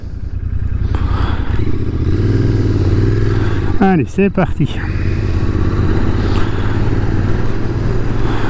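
A Royal Enfield Interceptor 650 motorcycle engine rumbles steadily while riding near Beaucaire, Gard, with a brief revving shift midway and a short spoken phrase over the engine noise.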